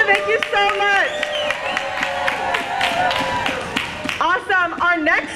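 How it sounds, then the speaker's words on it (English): Scattered clapping and cheering from a crowd at an outdoor climate rally in Hartford, mixed with loud amplified speech and shouting. Bursts of applause come and go under the voices. "Big round of applause for Senna."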